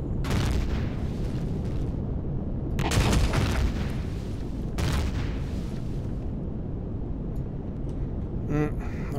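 Ship guns in Empyrion Galactic Survival firing at a dropship, heavy booming blasts rolling over a constant engine rumble, with two louder bursts in the middle and a brief metallic rattle near the end, under a talking voice.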